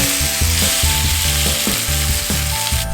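Chicken pieces frying in a wok with ginger and spring onions, a loud steady sizzle with rhythmic tossing and scraping strokes about twice a second, close, no speech.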